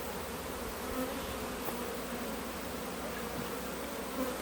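A dense, continuous buzzing of many honeybees fills the air close by, steady and unbroken with no voices.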